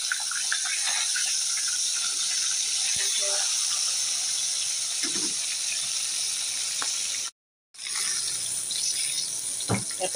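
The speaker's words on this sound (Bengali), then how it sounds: "তাহলে মাছটা আগে ভেজে নিই।" Large pabda fish frying in hot oil in a small wok, giving a steady, loud hiss and spatter that runs throughout with a few sharper pops and one brief dropout near the end.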